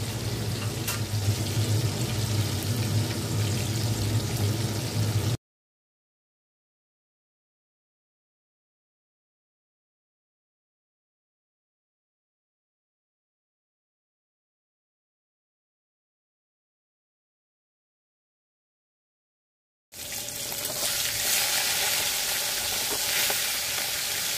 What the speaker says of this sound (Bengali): ভালো করে দুপাশটা উল্টে উল্টে ভেজে নেব, যাতে ভেতর থেকে ভালো করে রান্না হয়ে যায় মাছের মাথাটা।